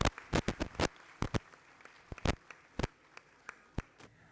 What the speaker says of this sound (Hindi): Parents, एक बार जोरदार तालियां.